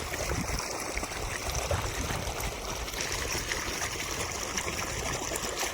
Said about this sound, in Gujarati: અડધું પાણી ઓલામ જાય છે અને અડધું પાણી આ બાજુ જાય